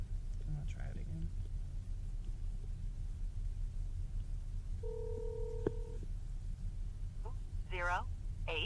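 A phone number being keyed in: two stacked DTMF tones hold for about a second mid-clip over steady low rumble, then a brief chirpy burst of higher tones near the end, with faint murmured speech early on.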